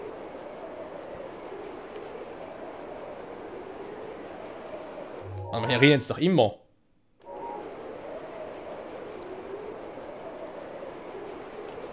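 Steady rain hissing throughout in The Legend of Zelda: Breath of the Wild, a soft even wash that briefly drops out near the middle while a voice speaks over it.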